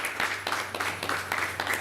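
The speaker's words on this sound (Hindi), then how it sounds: "ये तालियों की गड़गड़ाहट जो है नॉर्थ गोवा के अल्दोना गांव से आ रही है।" Village women in Aldona, North Goa, clap together at an outdoor community gathering, a short, dense burst of applause picked up fairly close.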